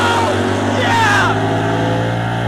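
A Camaro drag car engine bouncing off the rev limiter at the end of a strip run, a loud, steady, buzzing drone that holds close and strong throughout.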